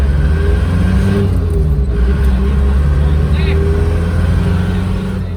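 Steady low engine drone and road rumble inside a moving Mitsubishi Xpander on a touring road trip, loud and continuous throughout with no talk over it.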